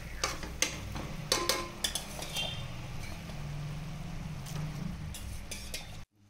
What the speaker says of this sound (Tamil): இதோட நம்ம மட்டனை சேர்த்து விட்டு வதக்கி விடுவோம்.